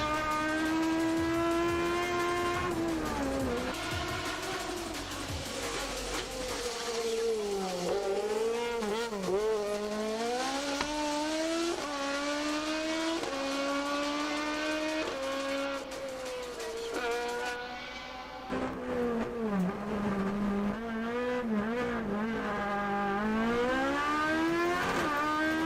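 A Toyota Trueno engine screams up toward 11,000 RPM, its loud, sustained tone climbing and falling through repeated rev sweeps and gear changes, close and continuous with no voices.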